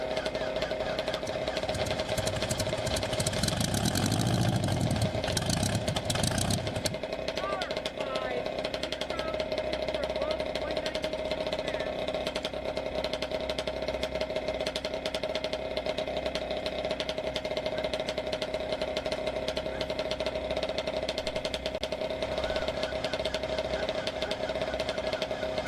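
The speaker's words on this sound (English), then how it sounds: "1929 Ford Roadster, sporting a 468 cubic inch Chevrolet." A 1929 Ford Roadster race car with a 468 cubic inch Chevrolet engine idles at a dry lake race, a steady loping rumble throughout, with a louder burst of engine noise early on and a person talking over it.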